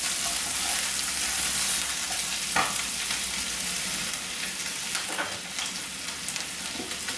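Butter sizzles and fries in a hot pan, a dense, steady crackling hiss close up that fades slightly over the seconds, with a few stirring clicks and no voices.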